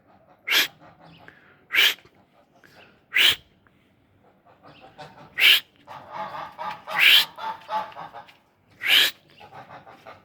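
A goose honks in sharp, loud bursts, about six distinct calls spaced irregularly with softer grumbling between them, close by and with no speech over it.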